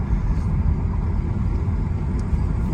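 A stock 1994 Audi S4 turbo pulls hard at full throttle, a dense, loud low engine roar holding steady under boost with no voices.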